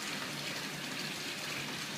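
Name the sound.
water flowing through open valve into tank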